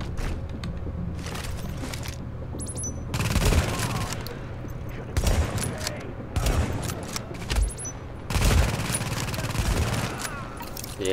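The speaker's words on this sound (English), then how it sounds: "See if my new turret works." An automated turret deployed in the video game Tom Clancy's The Division fires repeated bursts of gunfire in several loud waves, with a steady game background rumble between volleys.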